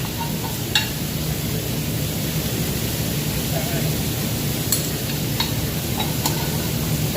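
Shrimp with garlic sizzling in a pan, a steady broadband frying hiss throughout with a few brief clicks and spatters, while a person talks over it.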